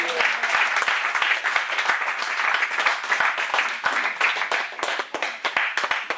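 A church congregation applauds the Lord, a dense, sustained wash of many hands clapping at close range, with a few louder individual claps standing out near the end.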